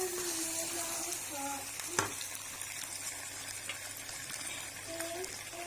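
Eggplant and potato curry being stirred in a pan, a steady close sizzle of frying with soft scraping strokes and one sharp knock of the spoon against the pan, no talking.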